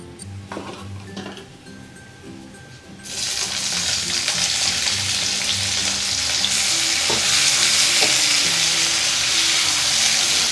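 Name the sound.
mustard seeds and cumin spluttering in hot oil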